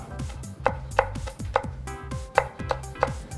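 A knife chops spring onions on a cutting board in steady, close, crisp strikes, about eight sharp knocks over a few seconds, alone with no talk.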